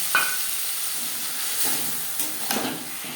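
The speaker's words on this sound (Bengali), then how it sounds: "কাঁচা লঙ্কা ভেজে নেওয়ার পর দিয়ে দেব ফুলকপির পাতা যেটা আমি বেটে রেখেছিলাম" Green chilies and whole cumin sizzle softly in oil as a paste of ground cauliflower leaves goes into the pan, with a faint steady hiss and a few brief louder bursts of spitting.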